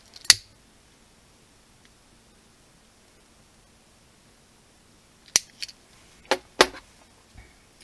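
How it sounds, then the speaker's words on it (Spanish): A lighter is flicked close by to seal the cut cord ends of a macrame bracelet. One sharp click comes first, then after a long quiet pause a cluster of three or four more crisp clicks follows. "y le doy con el mechero"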